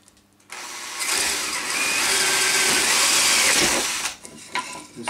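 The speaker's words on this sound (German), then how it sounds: "Dann mache ich einfach ein Loch rein" Power drill boring a hole in a handmade lantern, a near, loud steady whirring buzz that starts abruptly, runs about three seconds and cuts off, followed by small handling knocks.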